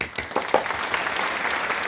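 Applause from a classroom of students, a burst of many hands clapping close by that builds quickly and stays dense to the end, with no voices standing out.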